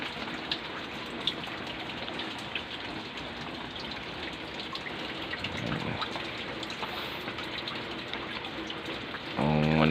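Heavy typhoon rain pours steadily in Laguna, a dense, continuous hiss of drops and running water throughout, with a brief louder gush near the end.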